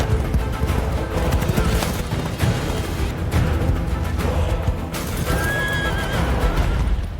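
A horse neighs with a clear whinny while hooves clip-clop steadily, set against a busy, continuous background of movement and bustle; the whinny rises briefly near the end over the ongoing hoofbeats.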